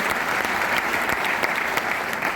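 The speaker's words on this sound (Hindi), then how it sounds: "तो एक बार जरूर ताली बजाना चाहिए कार फंड के लिए।" An audience at a marketing seminar gives steady, dense applause that stays loud and even throughout, with no talking over it.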